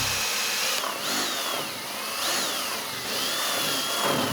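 A power drill boring holes for the rivets of a wicker bill, a continuous high whine that rises and falls in pitch as the bit bites in, steady and close.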